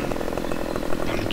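A Stihl MS261 chainsaw cuts into a tree in Farming Simulator 15, a loud, continuous buzzing rasp that fills the whole moment and stays steady from start to finish, heard alone with no talk over it.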